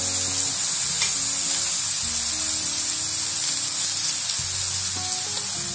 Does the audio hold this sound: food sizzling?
yes